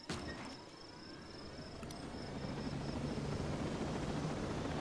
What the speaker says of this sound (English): Let's get in this helicopter.